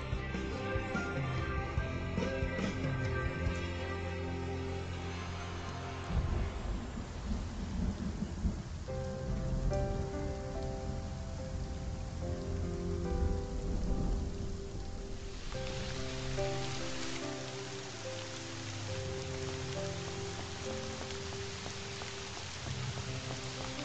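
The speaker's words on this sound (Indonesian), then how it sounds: "Hujan di Shanghai sampai ke Beijing." Thunderstorm with steady heavy rain and deep rolling thunder, loud and continuous, with tonal music layered over the storm.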